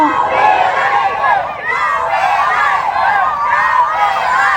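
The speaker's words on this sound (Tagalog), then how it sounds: "Ayan, sigawan na yung mga tao." A crowd of supporters shouts and cheers at an outdoor political rally for Congressman Joey Uy, held in the rain. Many voices rise and fall together in loud, sustained waves, close and continuous.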